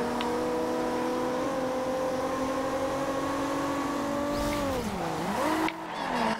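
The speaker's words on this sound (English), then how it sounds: "That was a bad drift." A Mazda MX-5 in the Forza Horizon 2 racing game drifts through a bad slide, its steady engine drone dipping and wavering as the car loses speed, with a faint tire squeal near the end.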